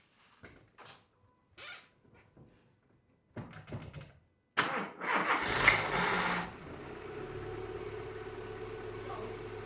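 A car engine is started after a few scattered clicks and clunks in a quiet space: a sudden loud crank catches, surges briefly, then settles into a steady, lower idle.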